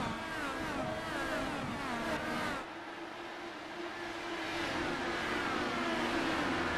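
A pack of race cars in iRacing accelerating at Milwaukee as the green flag restarts the race, engines droning and rising in pitch, easing briefly, then building again as the field pulls away.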